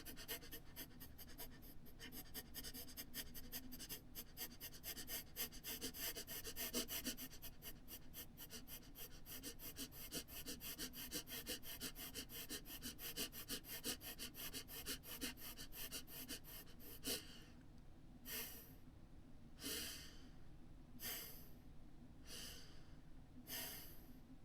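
Breathing exercise for singing: a person pants in quick rhythmic breaths, then switches to a series of sharper, spaced gasps near the end, close and fairly quiet with no talking.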